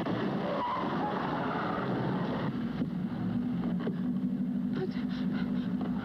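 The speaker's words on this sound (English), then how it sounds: "Stop this car." Car pulling away with tires skidding, in an English comedy film set around Paris: a steady engine roar with a rough scraping skid, close and continuous, while a voice speaks briefly over it.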